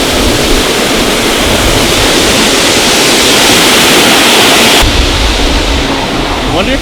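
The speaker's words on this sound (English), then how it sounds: "This is where the creek gets real big." Loud, steady broadband rush of a large creek where it widens out, close and continuous with no pauses, its roar dropping slightly in brightness near the end.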